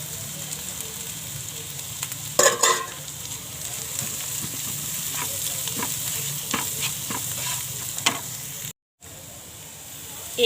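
Onion and spices frying in a pan, a steady close sizzle with scraping stir strokes and a louder burst of stirring partway through, with no talking.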